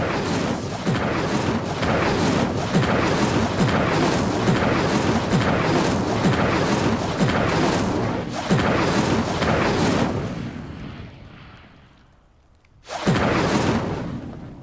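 Magic spell blasts in the Hogwarts Legacy video game, a dense run of loud booming, crackling bursts that fade toward near silence before one more sharp blast hits at the end.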